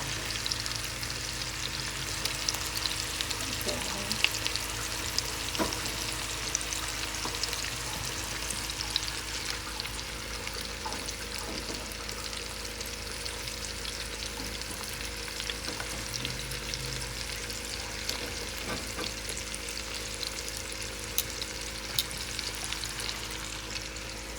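Four pounds of ground beef frying and browning in a pan, a steady loud sizzle and crackle lasting throughout, with occasional faint stirring clicks close by.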